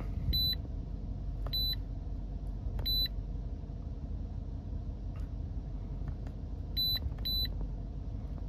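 Short electronic beeps from an Innova 5410 OBD2 car scan tool sound in small clusters, a few single chirps and a quick double beep, over a low steady rumble.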